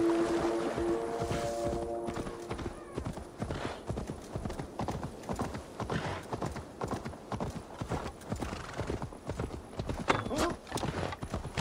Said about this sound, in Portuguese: Aí, cavalinho, vamos pegar ele aqui na curva,